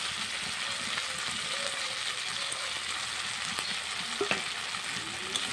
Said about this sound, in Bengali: ভালো করে আমি মশলাটা কষিয়ে নেব।